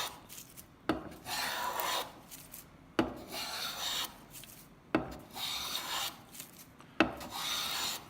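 A cabinet scraper rasps across a wooden board in four long, even strokes, each opening with a sharp catch followed by a steady scraping hiss, close and moderately loud with no talk.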